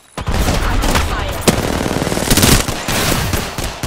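Rapid automatic gunfire in a combat video game, dense bursts of shots with sharp louder cracks and an explosive burst, filling the whole stretch with little pause.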